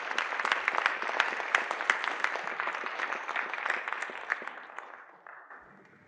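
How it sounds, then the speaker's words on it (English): Audience at an economic summit applauds the panelists, a lively burst of many hands with sharp individual claps standing out, holding steady for several seconds before tapering off and fading out at the end. "can we give our panelists a really nice round of applause?"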